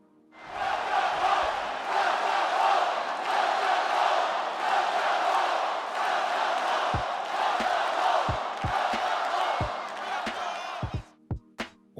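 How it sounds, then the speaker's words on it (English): Arena crowd chanting in the wrestling game WWE 2K24 for a UK superstar in a UK arena, a loud sustained roar of voices with rhythmic rises, ending in a few sharp thumps. "Superstars from the UK will also get the same chant when they feature in UK arenas."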